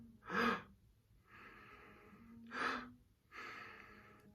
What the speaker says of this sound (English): This time, let's breathe in saying ha.